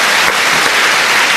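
Loud, dense audience applause for Sri Sultan Hamengkubuwono at a televised talk event in Jogja, a continuous wash of many hands clapping at close range with no pause.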